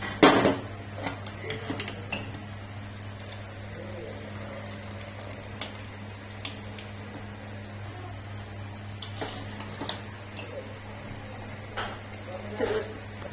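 Cooked rice scooped out of a pot onto a plate after the gas is turned off, heard as a few faint scattered clinks and scrapes of utensil on metal over a steady low kitchen hum.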